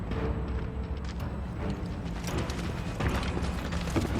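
Machinery whirs in the Final Fantasy VII Rebirth video game, a low continuous mechanical hum with ratcheting clicks and creaks at moderate level, no speech.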